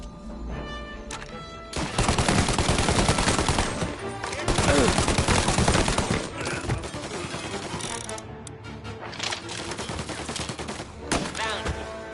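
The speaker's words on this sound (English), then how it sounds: "Officers, gunshots being reported." Rapid gunfire from the Mafia video game, loud and dense bursts of shots crackling for several seconds amid game music and sound effects, with a brief lull before more shooting.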